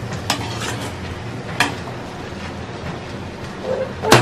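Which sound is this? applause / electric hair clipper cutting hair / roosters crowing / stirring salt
stirring salt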